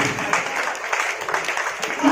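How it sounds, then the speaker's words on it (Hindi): A seminar audience at a magician training session claps loudly, a dense, steady patter of many hands that holds for about two seconds. "एक बार मुस्कुराने के लिए जोरदार ताली जाए"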